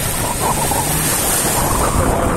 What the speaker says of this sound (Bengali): বাবা রে বাবা, ভয়ঙ্কর ঢেউ।